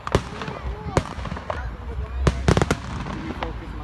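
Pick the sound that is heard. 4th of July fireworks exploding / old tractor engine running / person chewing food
4th of July fireworks exploding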